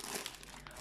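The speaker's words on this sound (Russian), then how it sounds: "пакет Yves Rocher," A recycled paper bag from Yves Rocher crinkles briefly, close and quiet, with soft rustling and no voices.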